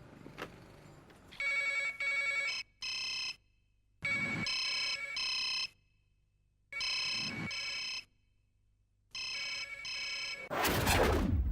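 A telephone rings while a call is placed, four long rings of bright repeating tones separated by silent gaps, followed by a burst of louder noise at the end.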